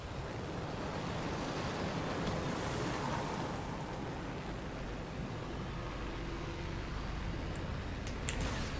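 Rushing water from waterfalls in the video game Anthem forms a steady, loud wash of noise with low rumble, continuous throughout with a few faint high clicks near the end.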